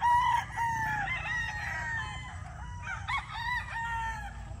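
Chickens cluck and a rooster crows repeatedly at a chicken farm, the calls close and fairly loud, with overlapping birds and no talking.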